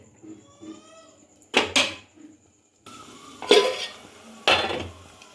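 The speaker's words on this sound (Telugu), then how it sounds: "మసాలాని యాడ్ చేసిన తర్వాత ఒకసారి కలుపుకుందాం ఫ్రెండ్స్. మసాలా కొద్దిగా ఫ్రై అవ్వాలి ఫ్రెండ్స్." Masala spices for chicken curry frying in a pan are stirred with a metal spoon, giving several sharp scraping clanks against the pan between quieter stretches of faint sizzling.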